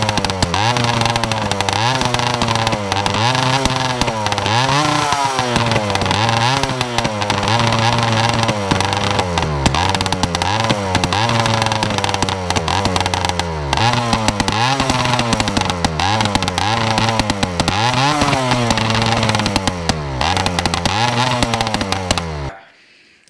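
A KTM-style dirt bike motorcycle engine running rich, roaring loud and close with repeated revs rising and falling in a steady pattern for over twenty seconds before cutting off abruptly.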